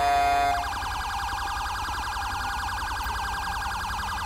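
A rapidly warbling ambulance siren from a video game repeats steadily and loud after a brief steady tone at the start, with no one speaking.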